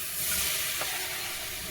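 Tomatoes, chopped and added over turmeric, sauté in a pan for a vegetarian lunch, giving a steady, close sizzle and hiss with a brief stirring scrape midway and no voices.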